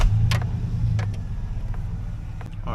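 A 2008 Chevy Silverado pickup engine runs at a steady, close idle, with a low, even rumble that holds for the whole stretch and a few faint clicks over it.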